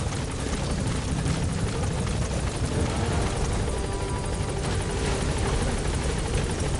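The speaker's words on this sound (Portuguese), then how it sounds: "Aê, helicóptero, chegamos." A helicopter in the video game Metal Gear Solid V: The Phantom Pain keeps up a loud, continuous rotor thrum close by with no voices.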